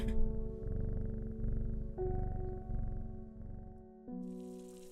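A cat in the game Strange Horticulture purrs in a low, steady rumble, pulsing in slow rhythmic cycles over a sustained tonal music drone, with no talking.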